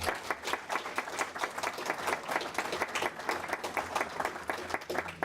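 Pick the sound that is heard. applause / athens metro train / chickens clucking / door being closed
applause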